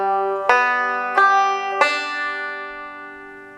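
Three plucked banjo notes ring out in a slow Scruggs-style bluegrass roll, thumb, index and middle fingers picking in turn, each attack bright and close, the tones sustaining and decaying together without any voice.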